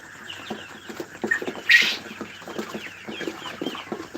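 Fifty-three-day-old laying hens cluck steadily in short, repeated bursts, with one brief louder squawk partway through; no one speaks.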